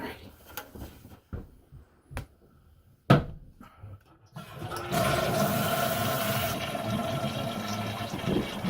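A household toilet flushes loudly and steadily, with rushing water and refilling continuing to the end after a few scattered knocks and brief noises at the start.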